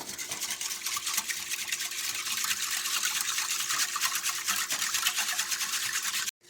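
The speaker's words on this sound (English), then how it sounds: "I've mixed our gravy mix really well with that water" Gravy mix is stirred into water in a bowl, giving a steady close-up swishing, sloshing liquid texture for several seconds before it stops abruptly.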